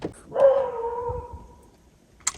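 A puppy out in falling snow gives a single drawn-out yelping whine that rises, holds and fades over about a second and a half, fairly close, with faint rustling before it and a brief sharp noise at the end.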